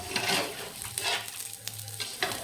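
Shallots and grated coconut frying in a little oil in an iron kadai, a soft crackling sizzle broken by scraping stirs, quiet and close with no talking.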